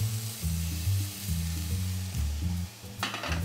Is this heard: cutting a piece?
no